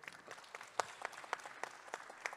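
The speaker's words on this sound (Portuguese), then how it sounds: "salva de palmas novamente" Audience members at an education forum applaud panel speakers with faint, distant, uneven clapping, individual claps audible over a thin crowd.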